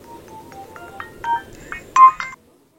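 A telephone being dialed produces a run of short keypad beeps, growing louder and denser toward the end before cutting to silence, over a faint low background murmur.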